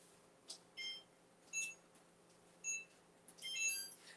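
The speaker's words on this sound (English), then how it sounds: "And we'll set the timer." A kitchen timer beeps while biscuits bake in a 450-degree oven, giving faint, high electronic chirps in short irregular bursts over a quiet room hum.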